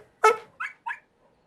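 A small, friendly dog lets out three short yips in quick succession, the first loudest and the next two lighter, close by and clear in a quiet room.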